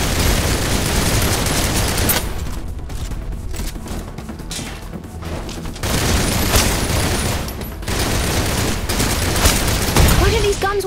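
Guns fire in a dense, sustained barrage of shots and booms from the mobile video game Snowbreak, with loud bursts and brief lulls and some mechanical clicks. Speech sits under the noise.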